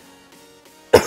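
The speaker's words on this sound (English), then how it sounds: "I just coughed." A single person's cough bursts out loudly and abruptly at the very end, after near silence, during a Minecraft-style survival game session.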